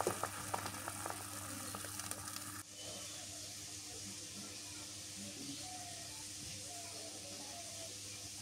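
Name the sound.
dried fish, green chili and onion boiling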